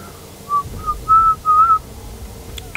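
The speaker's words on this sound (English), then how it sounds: "I need to stop whistling while doing my commentaries" A person whistles a short tune of four or five clear, sustained notes, loud and close, against a low background of game sound from Battlefield 1943.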